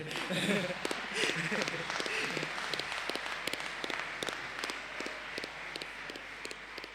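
An audience at the King Edward VII School 2020 valediction applauds the parents of a student, scattered sharp claps and some cheering or chatter mixed in, fairly close with voices beneath.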